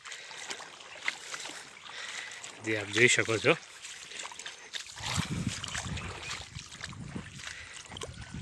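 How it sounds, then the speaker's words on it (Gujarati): River water flowing at a moderate level during the first monsoon flood of 2024 at Khapara Virampur, a faint steady rushing wash under a voice briefly talking, with wind-like noise over the later part. "હાલમાં એ પ્રમાણસર માપનું પાણી ચાલે છે"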